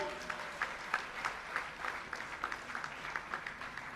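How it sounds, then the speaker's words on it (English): Audience applause at a felicitation ceremony for school toilet construction, a steady patter of many clapping hands with no talk over it. "give a round of applause for them once again"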